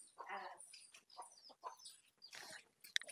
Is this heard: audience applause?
no